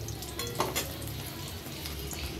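Egg pieces fry in hot oil with a soft, continuous sizzle and a few faint clinks from the pan, quiet and steady with no voices.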